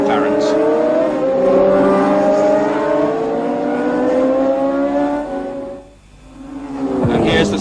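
Formula 1 race cars, including two McLarens, at the 1976 Fuji race, engines roaring loudly and continuously as they pass, rising and falling in pitch, dipping briefly to quiet before another car surges in, with commentary talking over them.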